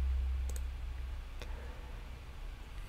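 A computer mouse clicks a few times, faint and quick, with two close clicks followed by a single later click over a low background hum.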